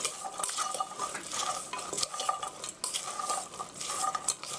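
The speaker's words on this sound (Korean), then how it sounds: "소금간이 고루 갈수 있도록 섞어주시고요" Onions being stirred and fried in a pan with salt and ground black pepper, a utensil scraping and clattering steadily against the pan over a constant sizzle, close and fairly loud, with no talking.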